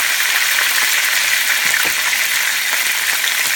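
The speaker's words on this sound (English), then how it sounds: "I'm going to gently lay it into the frying pan." Loud, continuous sizzling of chicken in a hot frying pan, a bright steady hiss with occasional soft crackles and no voices.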